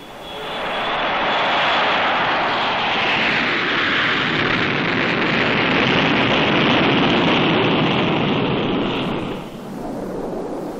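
XB-70 bomber flying at high speed with its jet engines at advanced throttle, a steady, loud, broad roar that holds for about ten seconds before dipping slightly and carrying on.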